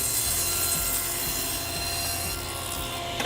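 A saw cuts steadily through wood, taking a thin blade-width pass, with a continuous close rasping drone that eases off near the end.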